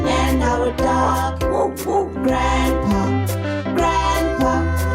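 A dog barks within a cheerful bilingual English and Zulu children's song about a big family, the barks mixed into steady, loud music with repeating instrumental notes.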